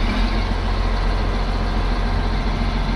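A big trailer machine's engine runs loud and steady, a heavy diesel rumble and drone close by while building air.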